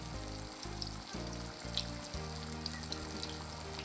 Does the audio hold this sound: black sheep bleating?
no